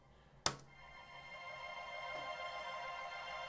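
A synth pad in a slink-style beat, eerie and spooky. A sharp click opens it, then a faint, sustained, airy wash of tone swells slowly and holds alone.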